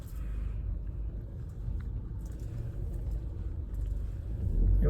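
A parked car's engine idles in a continuous low rumble, steady and close with no talk over it, swelling slightly louder at the very end.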